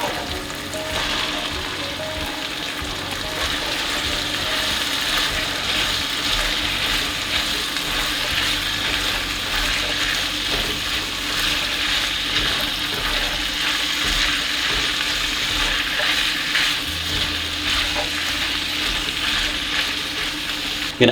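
Chickpeas fry in a hot pan, giving a steady, dense sizzle that holds at an even level throughout with no talking.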